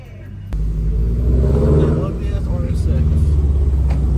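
A Toyota GR86 or Subaru BRZ fitted with Tomei unequal-length headers throbs loudly under load, its rough, pulsing exhaust rumble rising and holding while voices talk over it inside the car.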